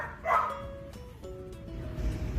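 Frightened dogs in a pet area on a ferry to the Canary Islands whimper and cry with a few barks, heard against a steady low rumble of the ship.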